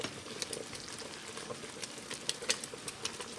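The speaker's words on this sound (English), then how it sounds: "we're going to keep stirring this so that we don't get any scorching" Apple jelly made from unripe apples boils in a pan under constant stirring, giving a steady close bubbling and crackling hiss with small pops scattered throughout, and no talking.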